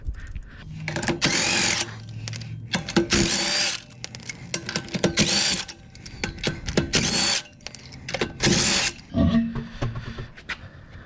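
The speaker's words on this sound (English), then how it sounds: "I finish taking them off with my little DeWalt here." Small DeWalt impact driver spinning off lug nuts from a 1000HP Toyota Supra, a series of loud, close rattling bursts of hammering, each lasting about a second with short pauses between.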